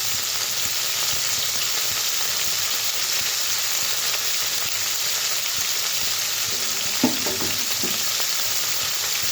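Tomatoes and salt fry in a pan for a Bengali lentil-fritter and drumstick curry, giving a steady, close sizzling hiss throughout, with a brief clatter of stirring near the end.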